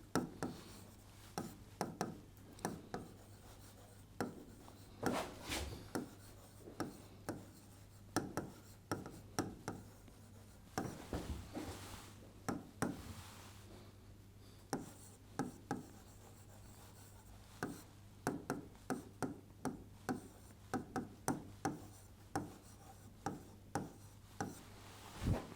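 Pen or marker scratching out programming code by hand in short, close strokes with brief pauses between bursts, over a steady low electrical hum; nobody speaks.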